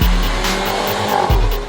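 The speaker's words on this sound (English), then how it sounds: "The engine has an energetic note and it gets you excited with its high-pitched growl." A Mercedes-Benz GLC Coupe with a 2-litre engine drives under load, its engine note growling loudly and steadily, with a brief dip and a fresh surge just before the end.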